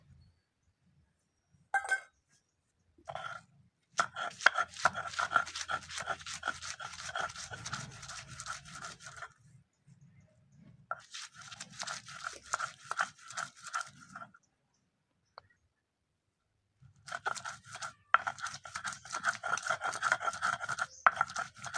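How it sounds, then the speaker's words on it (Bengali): Onions being ground into paste on a traditional grinding stone in a village kitchen: repeated rhythmic scraping and crunching strokes in several long bursts with short pauses between, fairly close and alone without talk. "এরপর আমি পেঁয়াজ বেটে নেব।"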